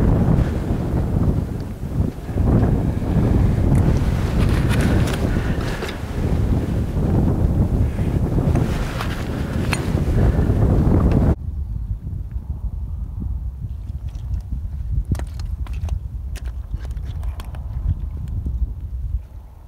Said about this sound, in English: there's a bit of a coastal breeze today